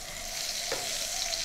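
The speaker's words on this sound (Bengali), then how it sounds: "বেগুন ভাজা হয়ে গেছে, তুলে নিচ্ছি।" Eggplant fries in hot oil with a dense, steady sizzle up close, broken once by a brief stir or clink.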